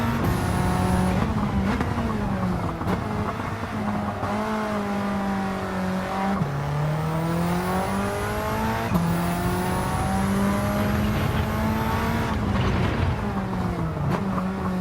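A race-tuned Mitsubishi Lancer Evolution in Gran Turismo 7 drones steadily on track, its engine pitch rising and dipping through gear changes and throttle lifts, loud and continuous with a whine riding above.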